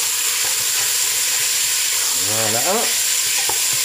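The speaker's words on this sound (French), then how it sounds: "Maintenant, je vais faire revenir ma viande." Pork sautés in oil and caramel in a pan with a loud, steady, close frying hiss throughout, while a brief voice speaks near the end.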